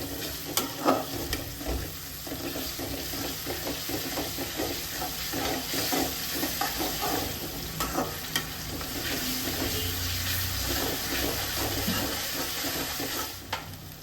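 Onions with ginger garlic paste frying and being stirred in a pan, a steady close sizzle with scraping stir strokes throughout, no talking.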